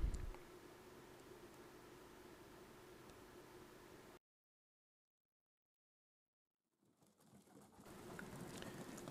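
Pigeons near a loft during enforced time outside: soft low cooing over steady hiss, faint and distant, broken by a few seconds of complete silence before the ambient noise gradually returns.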